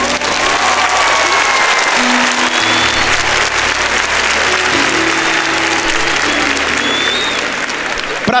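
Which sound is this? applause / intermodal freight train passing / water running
applause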